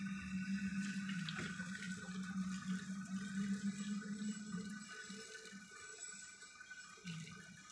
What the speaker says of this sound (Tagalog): Lagyan ko po siya ng hot water guys